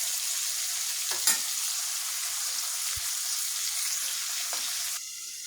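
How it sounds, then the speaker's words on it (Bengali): Fish deep-frying in a pan of oil, a steady close hiss and crackle with a couple of brief clatters, dropping slightly quieter at the very end. "এরকম করে ডুবো তেলে মাছ ভেজে ফেলে অনেক টেস্ট পাওয়া যায়"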